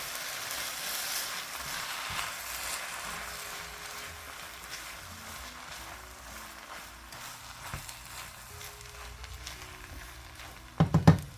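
Shredded rotisserie chicken stir-fried with egg and soy sauce sizzles steadily in a hot pan as a soft, continuous hiss, with a few clattering stirs and knocks near the end.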